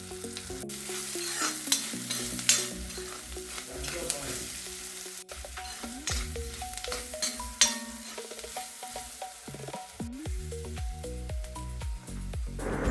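Onion and coconut bits with salt and turmeric sautéing in a pan for bitter gourd stir-fry, close frying sizzle broken by repeated scraping, clattering stirs and a few sharp knocks.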